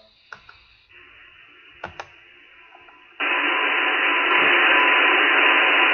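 Shortwave receiver static on 7570 kHz: a quiet, band-limited hiss with scattered clicks, then a sudden jump to loud, steady broadband noise that fills the rest, with no voice or signal standing out.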